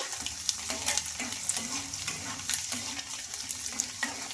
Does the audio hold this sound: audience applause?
no